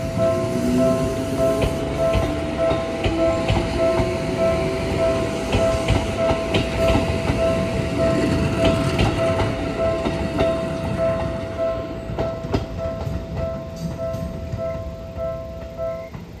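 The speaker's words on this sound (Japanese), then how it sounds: "そして列車は再び白糸台駅、それから白糸台車両基地の方へと向けて発車。" A Seibu Tamagawa Line train rumbles and rolls away steadily from Shiraitodai Station toward the Shiraitodai depot, with clattering wheels and a sustained tonal hum, loud and close throughout.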